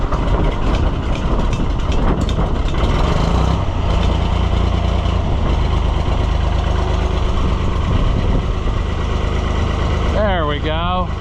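A Fiat engine idles with a steady, loud rumble just after starting, buffeted by strong wind noise, and a brief whining sweep comes near the end.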